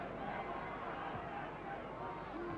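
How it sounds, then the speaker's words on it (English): The Exeter City football crowd at a 1969 FA Cup third-round match against Manchester United makes a steady, distant roar and babble that runs throughout under a commentator's voice. "There's the Exeter crowd, and are they happy at this moment?"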